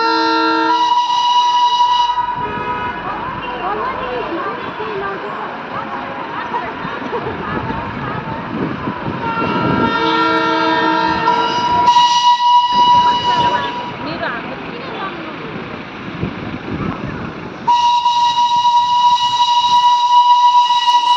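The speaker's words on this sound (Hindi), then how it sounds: "Local train I." The Darjeeling toy train, a local narrow-gauge steam service, passes with repeated loud whistle blasts over rumbling, clattering carriages, close by, with people's voices mixed in.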